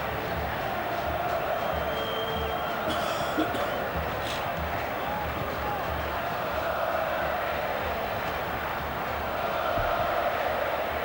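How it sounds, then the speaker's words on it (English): A large Argentine crowd at Monumental Stadium, during an Argentina versus Peru World Cup qualifier, roars in a dense, continuous wash of stadium noise with rising chanting, steady and loud throughout. "Here come the Oles from the Argentine crowd"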